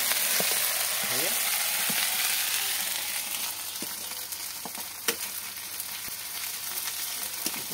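Chili paste fries in a pan with a steady, loud sizzle, punctuated by intermittent clinks and scrapes of a spatula stirring it through.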